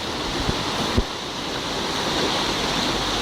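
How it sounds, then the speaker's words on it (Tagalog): Floodwater from a flash flood in Latawan, Basilan rushes in a steady, loud roar, broken by two short thumps in the first second. "Ito na siguro yung pinaka-worst na baha na nangyari dito ngayon"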